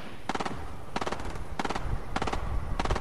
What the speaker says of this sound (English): the guys west are shooting the guys northeast